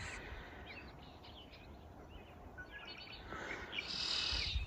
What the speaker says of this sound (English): Beautiful red-winged blackbird up there.